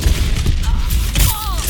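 Rocket explosions in the Overwatch video game, a dense run of booming blasts and thuds packed close together over continuous game noise, loud and near throughout.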